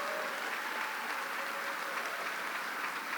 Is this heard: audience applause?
yes